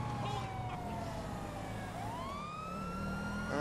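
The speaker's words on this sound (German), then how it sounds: "Die Sirene nervt aber." A police car siren wails continuously in the video game GTA V, its rising and falling tones layered over a steady engine and road rumble, loud and close, with no talking.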